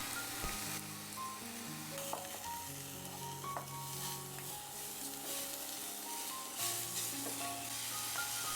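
Pork stir-frying in a pan for a Burmese pork stew, a steady loud sizzle with scraping stirs and faint background music or hum, no talking.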